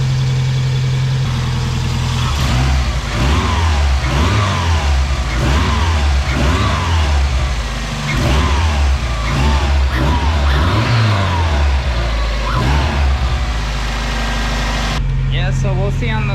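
A 1.6-liter Mazda Miata engine running on a turbo manifold with a new, larger muffler, rumbling close by with repeated revs that rise and fall before settling back to idle.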